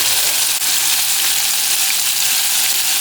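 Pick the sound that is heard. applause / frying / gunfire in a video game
frying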